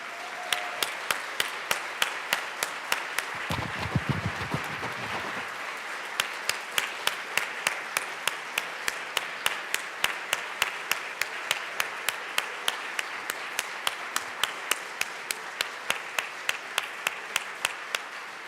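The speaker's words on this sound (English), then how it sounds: "Please give him a round of applause." Members applaud in the Colorado House chamber: a sustained patter of many hands blends with a few sharp, regular louder claps that continue throughout, and a brief low rumble occurs partway through.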